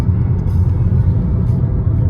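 Steady, loud road rumble from inside a car cruising along a highway, a continuous low drone of engine and tyres with no talk.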